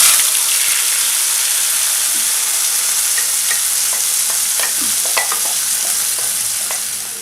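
A paste of onion, ginger, garlic and green chili sautés in a hot pan with a loud, even hiss of sizzling. Occasional light stirring clicks sound close up, with no talk.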